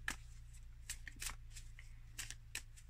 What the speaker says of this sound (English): I'm going to get maybe one or two cards from this deck.